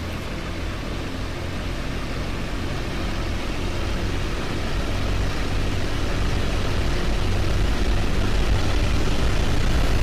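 Fw 190 D-9 piston engine in DCS during the takeoff run, a loud, steady, broadband roar with deep low rumble, swelling slightly as power increases, heard alone without voices.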